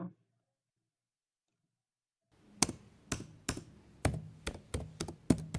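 Fingers type a name on a computer keyboard while designing a visiting card in Canva, a quick run of crisp, close key clicks in uneven rhythm after a couple of seconds of silence.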